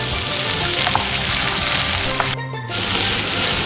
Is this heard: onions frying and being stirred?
yes